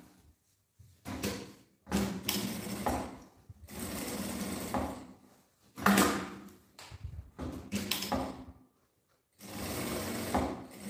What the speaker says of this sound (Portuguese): a gente vai passar uma costurinha bem na beiradinha, aqui, aqui, aqui, e desse outro lado também